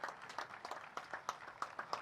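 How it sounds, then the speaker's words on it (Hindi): Light applause from an audience at a CRPF divyang empowerment centre inauguration comes as scattered individual claps over about two seconds, fairly quiet and somewhat distant. "जोरदार तालियां हो जाएं प्लीज आप सभी की।"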